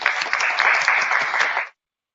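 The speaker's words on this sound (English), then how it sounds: "So if we could give them a round of applause, that would be greatly appreciated." Attendees at a Cincinnati Public Schools board of education meeting give a round of applause, brisk clapping that runs for under two seconds and then cuts off to silence.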